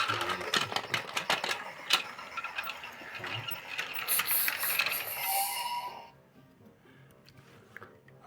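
A Lego Duplo toy train runs along its track, a busy mix of rattling clicks and whirring motor hiss that continues for about six seconds, then drops away to near silence.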